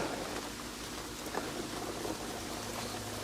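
Rain falling steadily outdoors around a vehicle parked outside while it is refuelled, a soft continuous hiss of drops with faint scattered patter and no voices.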